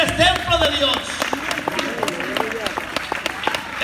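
A church congregation claps together in steady applause, with voices and shouts mixing over the clapping throughout.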